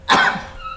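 A single sharp cough, close and fairly loud, followed by a faint trailing breath and a soft high tone.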